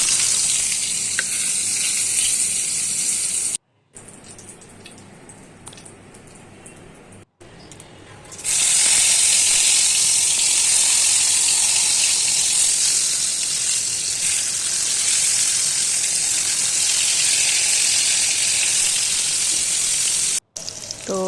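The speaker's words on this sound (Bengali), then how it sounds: "বাকি পটলগুলো আমি একইভাবে ভেজে নেবো" Pointed gourds frying in hot oil give a loud, continuous sizzle and crackle close up, briefly cutting out and then resuming at full strength.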